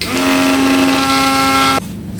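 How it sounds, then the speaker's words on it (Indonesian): A kitchen blender runs hard on chopped aloe vera leaf, a loud steady whir with a sustained pitched motor tone that cuts off abruptly near the end, leaving a quiet room. "Selanjutnya kita akan memblender lidah buaya."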